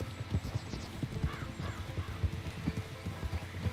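Horse hooves in the video game Red Dead Redemption 2 clip-clop in a steady, fairly loud galloping rhythm, with a faint whinny-like cry partway through and no talk.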